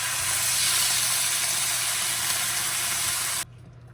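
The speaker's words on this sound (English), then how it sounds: "we're going to let this simmer for about, I'll say for about 5 minutes" Prego pasta sauce simmers in a pan for walnut spaghetti, giving a loud, steady broadband sizzle and hiss that runs unbroken for over three seconds before cutting off abruptly to near silence.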